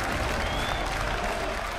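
A League of Legends World Championship 2015 arena crowd roars and applauds in a dense, continuous wash of cheering during an Invictus Gaming versus Fnatic group-stage match.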